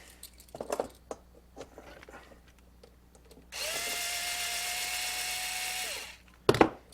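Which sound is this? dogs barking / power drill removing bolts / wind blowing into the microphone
power drill removing bolts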